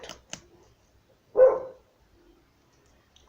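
A pet dog lets out one short, loud bark in a home, then the room goes quiet except for faint background noises.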